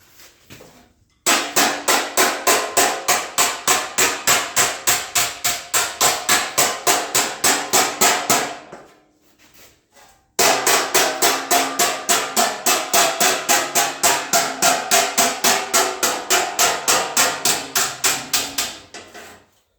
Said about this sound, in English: I'm going to grind off the end of this here and I'm gonna roll that lip upwards